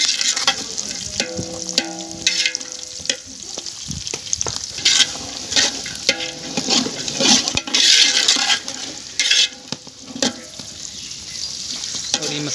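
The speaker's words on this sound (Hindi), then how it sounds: "हल्का सा फ्राई करना है इनको।" White chickpeas fry in a pot for village-style chana pulao, sizzling and crackling steadily while a spoon scrapes and stirs in repeated bursts, with occasional clinks against the pot.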